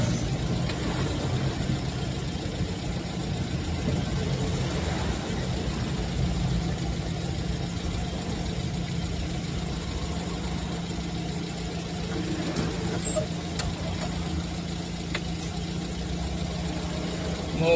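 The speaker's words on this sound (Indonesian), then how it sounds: "Lagi menarik mobil mogok Grand Max Box." A car towing a Daihatsu Grand Max box van that broke down with an engine fault on the slopes of Merapi: a steady, loud engine drone held throughout, with no clear speech.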